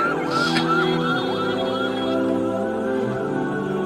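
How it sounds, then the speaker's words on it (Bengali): An ambulance siren wails in a clear rising-and-falling pattern as it passes on a road, loud and continuous over a background hum of traffic, with no talking. "ডানে কি অ্যাম্বুলেন্স যাচ্ছে"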